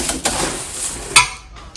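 Puffed rice, fryums and peanuts dropped into hot oil for tempering, giving a burst of sizzling with scraping and clinking of a metal pan and spoon, close and fairly loud with no voices.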